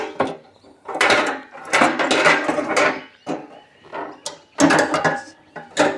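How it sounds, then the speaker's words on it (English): A metal latching bracket is hooked down over jerry cans seated in a fuel can holder, giving a run of close, sharp clanks, scrapes and clicks in uneven bursts, with no talk. "place them over the caps, and then quite simply all you do is hook it down to the bottom and you close it in"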